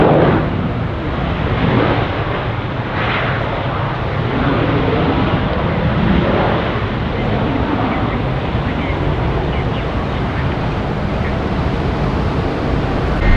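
Airliner thrust reversers roaring on landing at Tampa International Airport, a loud, steady broadband rush that holds for the whole stretch without a break.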